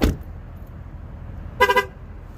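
A car left running honks its horn as the door shuts: a thud at the start, then a few quick close horn toots in a short burst, loud over faint engine rumble.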